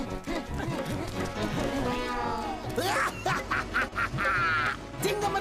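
A cartoon duck quacks repeatedly in bursts amid animated dialogue, with character voices talking throughout and several quacks rising clearly above the speech.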